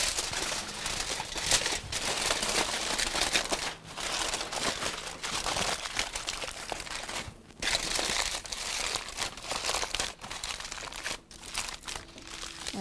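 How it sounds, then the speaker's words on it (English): Aluminum foil crinkles and crunches steadily up close as it is wrapped around glazed ribs in a roasting pan, the crumpling continuous and fairly loud with brief lulls, with no talk. "we'll take this foil and just wrap this up."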